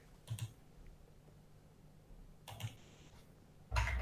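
Faint clicks from a loud computer keyboard come in three short bursts separated by quiet pauses, each burst a quick cluster of key taps over a low room hum.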